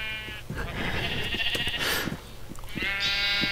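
Lamb in Minecraft bleating twice with wavering calls, a longer bleat near the start and another near the end, over steady game background sounds and faint clicks.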